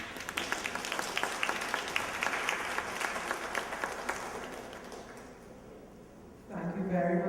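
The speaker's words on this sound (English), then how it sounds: "Yes, you can give them another round of applause." Audience applause at a women's empowerment workshop fills the room with steady, loud clapping that fades off near the end, after which a voice begins speaking.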